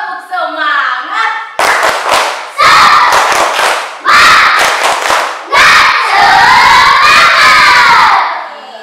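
A classroom of schoolchildren shouts a rhythmic tepuk semangat clapping chant, loud bursts of chanted voices punctuated by sharp synchronized claps in repeated phrases, led by a teacher's voice at the start.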